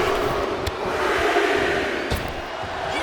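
Wrestling arena crowd in WWE 2K25 roaring steadily through an Intercontinental Championship match between Rocky Maivia and Hunter Hearst Helmsley, a dense continuous wash of cheering with a couple of sharper shouts rising from it.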